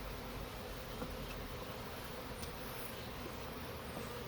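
Faint, continuous buzzing of honeybees sealed in a jar, a dense steady drone with no talking.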